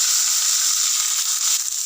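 Small shallots sizzle in hot oil with mustard seeds and curry leaves while chicken thoran is being cooked, a steady loud bright hiss that stays even throughout with no talking.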